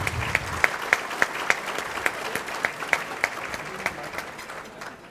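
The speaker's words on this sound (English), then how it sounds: "Let's give him a round of applause." A conference audience claps for a moderator at a women's healthcare panel event, with distinct sharp individual claps standing out over a softer spread of clapping that fades toward the end.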